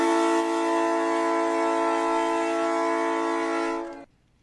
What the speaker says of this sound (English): the new Bills train horn in the arena